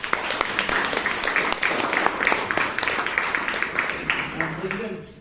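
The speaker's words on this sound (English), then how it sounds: "give her a big round of applause" A Toastmasters club audience gives a big round of applause to their president: a full burst of clapping that fades out near the end.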